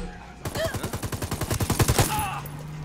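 A close, loud burst of automatic gunfire from the video game Ghost Recon Wildlands fires about twenty rapid rounds in a steady rhythm over roughly a second and a half, then the sound cuts off.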